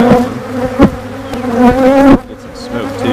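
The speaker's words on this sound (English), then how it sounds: "there's this many bees in there, but they're definitely getting feisty" Honey bees buzz steadily inside an opened hive during a split, a dense, close droning hum with rising agitation and a few brief louder bumps.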